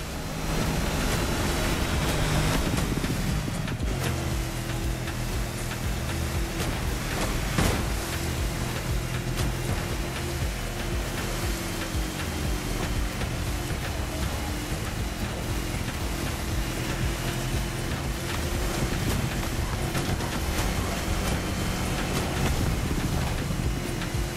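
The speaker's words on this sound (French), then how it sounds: "vu comment les bruits bougent, la mer est agitée" A boat races over rough sea waves in The Crew Motorfest, with a dense, constant roar of engine, spray and wind that stays loud and steady throughout, close and unbroken, with no talk.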